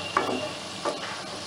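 Koftas made with bottle gourd peel frying in oil in a wok, a soft steady sizzle with a couple of brief stirring clinks, fairly quiet and close.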